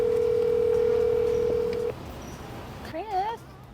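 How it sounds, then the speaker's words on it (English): A steady telephone dial tone holds loud for about two seconds and then cuts off, followed by a brief warbling electronic tone over faint background noise. "answer the phone"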